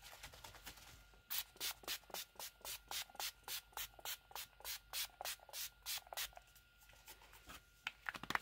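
A series of short, regular sprays of Scandinavia bridal setting spray hiss up close, around twenty quick bursts in a steady rhythm, with no one speaking.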